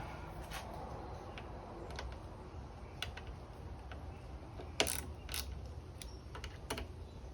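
Small 5mm Allen head bolts being tightened on a parking brake, heard as faint, scattered ratcheting clicks and light metallic ticks over a steady background hiss.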